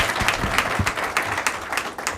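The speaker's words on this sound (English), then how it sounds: "I think that deserves a round of applause." A short burst of applause breaks out at a school board meeting, a fairly loud wash of many hands clapping with a few sharper individual claps and low room murmur beneath.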